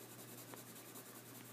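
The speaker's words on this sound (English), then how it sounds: "I just press lightly with my pencil." Pencil lightly shading on paper, a faint steady scratchy rubbing in regular strokes, close and quiet, ending with a sharp tap.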